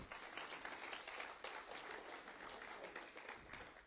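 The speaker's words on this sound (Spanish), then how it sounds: "Démosle un fuerte aplauso al Señor." A church congregation applauds steadily, a dense, fairly distant wash of many hands clapping together that holds evenly for the whole stretch with no speech over it.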